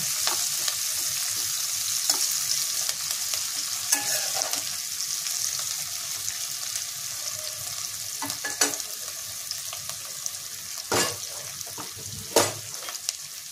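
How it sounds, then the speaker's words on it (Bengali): Sliced onions fry in hot oil with a pinch of sugar for a Bengali black-chickpea ghugni, giving a steady close sizzle broken by occasional sharp scrapes and knocks of stirring, with no voices. "পেঁয়াজটাও লাল হয়ে যাবে, ক্যারামেল গন্ধটাও ভালো হবে"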